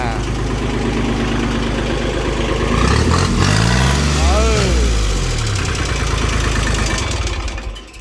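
An old tractor engine idling after being started, a low steady mechanical chug running throughout; a voice briefly sounds partway through.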